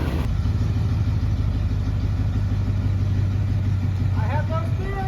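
A lifted truck with a powdercoated solid axle swap and 46-inch tires idles with a steady, close, low engine rumble, and a brief higher whine creeps in near the end.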